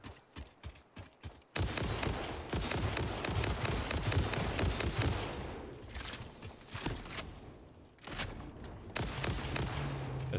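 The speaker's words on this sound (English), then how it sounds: "This rifle is nuts, though." Rifle fire in the factory-building game Satisfactory: a few sharp single shots, then a long dense barrage of rapid close, loud reports that pauses briefly and resumes, with no talking.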